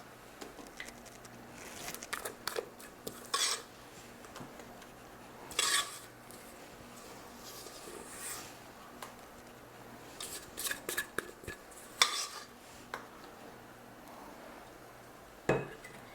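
Cake batter, a spiced tomato soup cake mix, is scraped and spread into a greased baking dish, giving scattered soft utensil scrapes and taps against the dish, close and fairly quiet, with no talking.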